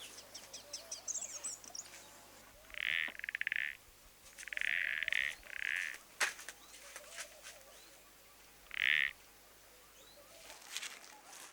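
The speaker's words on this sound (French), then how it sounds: "Un crapaud." A toad croaks in several short rasping bursts of varying length, fairly close over quiet outdoor background with faint clicks and chirps, and nobody speaks.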